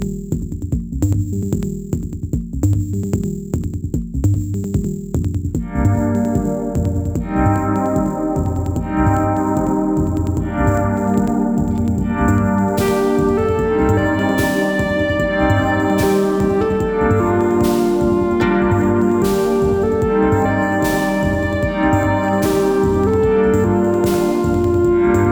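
A Kodex GFX-91W digital delay pedal modulated into a washy reverb, smearing sustained synth notes over steady drums, with bursts of white noise sweeping in during the second half; a dense, continuous instrumental mix with no voices.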